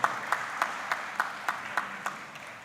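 Clapping at a town hall meeting on COVID-19 vaccines and testing: a sparse, evenly spaced series of sharp claps in a steady rhythm, fairly faint and slightly ringing in the room.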